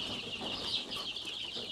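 Chickens in a coop just after vaccination, several birds clucking and squawking in a continuous mix at moderate distance, alone without talk.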